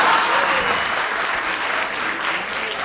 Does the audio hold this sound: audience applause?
yes